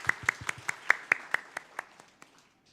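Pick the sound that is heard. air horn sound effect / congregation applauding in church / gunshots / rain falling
congregation applauding in church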